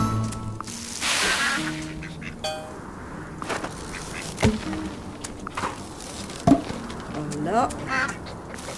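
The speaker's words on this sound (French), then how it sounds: "Trop mignon, les petits canards." Little ducklings quack repeatedly on a farm in the Farm Together video game, short honking calls scattered over game music and sound effects, while someone speaks now and then.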